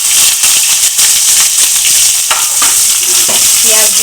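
Onions fry in a pan of oil for red lentil khichuri, giving a steady loud sizzle with stirring scrapes throughout, no talking.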